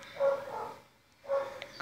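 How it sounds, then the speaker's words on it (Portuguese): Small dog in The Sims video game giving two yapping barks about a second apart, moderately loud with a quiet gap between them. "Tem um cachorrinho."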